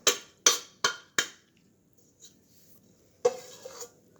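Bread dough is scraped into a bowl: four quick, evenly spaced scrapes of a utensil against the bowl, a pause, then one longer scrape that trails off, all close and clear.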